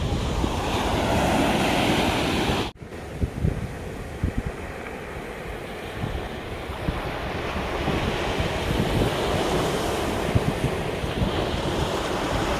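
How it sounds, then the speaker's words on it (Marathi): Sea waves roll steadily onto Devgad beach, a continuous loud surf wash with gusty wind buffeting the microphone and a brief dropout partway through; nobody speaks. "लाटांचा आवाज ऐकूया शांतपणे"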